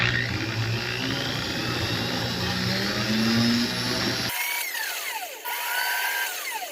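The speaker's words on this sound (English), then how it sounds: "I'm going to grind a shape of this opal, and I'm going to grind out that craze." A power grinder whines steadily as it grinds crazing out of an opal, its pitch drifting as the stone is worked, then cutting off about two-thirds through into quieter, thinner mechanical tones.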